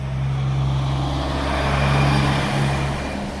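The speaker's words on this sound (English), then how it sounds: "And once these noisy trucks go by," Noisy trucks drive past on a city street downtown, a loud, steady engine rumble and roar that swells and then eases off, with no talking.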